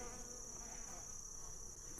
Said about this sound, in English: we'll be adding these bees